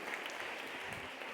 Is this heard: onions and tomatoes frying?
no